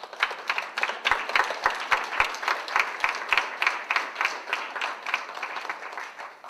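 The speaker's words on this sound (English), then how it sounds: "Thank you very much for that applause." An audience at a Calgary Opera event applauds, with dense, fairly close clapping from many hands that holds steady for several seconds.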